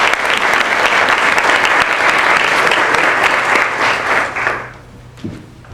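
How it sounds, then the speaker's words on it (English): Loud, dense applause from an audience at a university art forum with guest artists, holding steady for over four seconds before tapering off quickly into near silence. "please give these two a round of applause"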